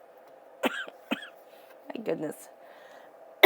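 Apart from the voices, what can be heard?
choking and coughing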